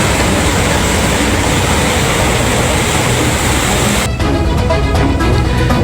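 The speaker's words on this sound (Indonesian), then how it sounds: "kereta api pun sudah bisa melintas perlahan" A train crosses slowly over a repaired bridge after flooding, a loud, continuous rumbling roar throughout with rhythmic clacking emerging near the end.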